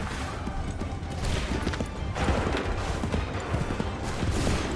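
Musket fire in Assassin's Creed III, a dense, noisy clatter of scattered shots and crashes at moderate loudness, with horse hooves faintly audible and no speech.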